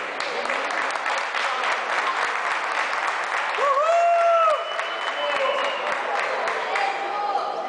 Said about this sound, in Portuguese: façam suas poses livres para os aplausos do público